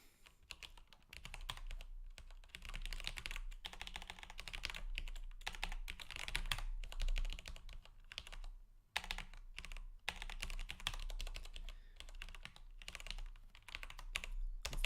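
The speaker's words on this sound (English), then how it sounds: "Unfortunately, this is just typing. I'm just smashing through it as quickly as I can." Fast typing on a computer keyboard, with dense rapid key clicks in steady bursts and short pauses, close and fairly quiet, over a low background hum.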